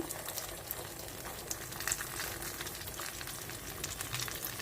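Kalathappam batter fries in a hot pan, a continuous, even crackling sizzle at low level, close by, with no talking.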